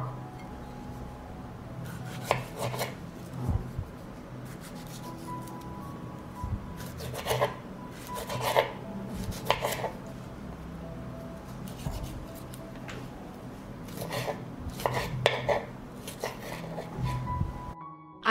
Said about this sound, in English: First, I'll cut the tomatoes.